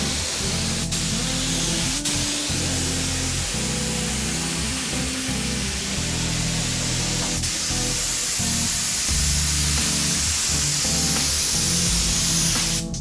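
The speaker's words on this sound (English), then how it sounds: "also just kind of wanted to test the gun again to see how this new one sprays." A new paint spray gun hisses in a long, loud, continuous burst during a test spray in a shop. The work is prep before painting a 1969 Dodge Charger R/T. A few faint clicks break through near the start.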